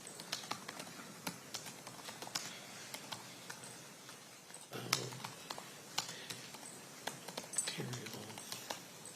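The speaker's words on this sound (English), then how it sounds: "I'm still typing that" Someone types on a computer keyboard in a courtroom during a murder trial, a quick irregular patter of key clicks with brief pauses, while voices talk quietly nearby.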